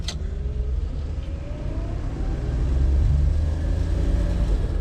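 An old car with a three-on-the-tree column-shift manual gearbox pulls away, its engine rumbling low and rising slightly in pitch and loudness as it accelerates, heard from inside the cabin with no talk.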